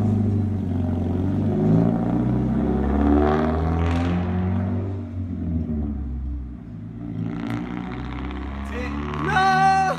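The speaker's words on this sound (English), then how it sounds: "That last exhaust sound." A Mazda Miata's exhaust as the car pulls away, a deep rumbling drone that swells and fades as it drives off, with a brief higher whir near the end.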